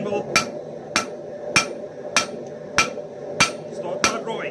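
Hammer striking hot metal over an anvil horn while forging an herb cutter, seven evenly spaced sharp ringing blows about two-thirds of a second apart, close and loud over a low background hum.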